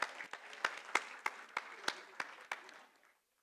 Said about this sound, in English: Please give a big round of applause to our tiny tots.